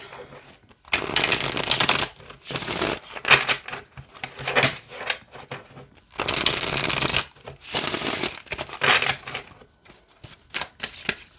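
Folklore Tarot card deck being riffle-shuffled close up, several distinct bursts of crisp fluttering card noise separated by brief pauses and soft handling sounds.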